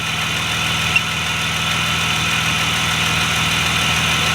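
BMW E36 M3 engine idling steadily, a loud, close, even mechanical drone with a constant low rumble and a faint tick near the start, no talk.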